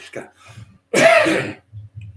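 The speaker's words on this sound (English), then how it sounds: "sitting here fucking coughing like an idiot" A single harsh, throaty cough bursts out loud and close, surrounded by quieter breathing and murmurs.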